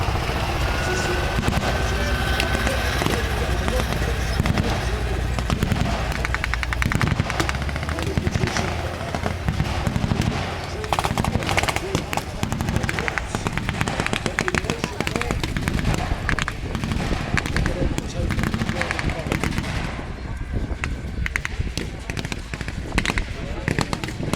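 Mortar and small-arms fire at a WWII living history battle reenactment of the Falaise Pocket at Kelmarsh, sounding as a dense, continuous barrage of bangs and crackling reports with a voice speaking over it.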